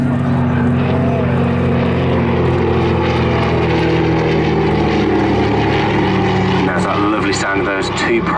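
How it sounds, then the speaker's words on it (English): A Douglas Dakota with two Pratt & Whitney engines drones steadily at an airshow, a loud continuous propeller roar filling the whole stretch. "Two Pratt & Whitney engines of our Dakota today."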